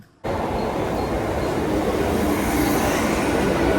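A suburban train rumbles steadily and loudly throughout, a dense continuous roar of rolling carriages starting abruptly after a brief quiet moment.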